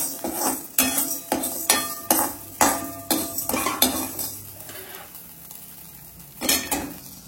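Dry salt stirred in a metal pan for a paruppu podi spice powder, a series of sharp scraping and clinking strokes of a spoon against the pan, fairly close and irregular, with a faint background hum and no talking.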